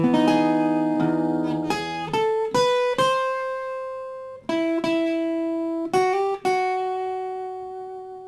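A solo acoustic guitar plays an acoustic solo, plucked single notes, some ringing out and others quickly following, clear and close with no talking.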